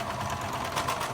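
Serger sewing machine stitching off the edge of fabric, a fast, even mechanical whir close by, running steadily throughout.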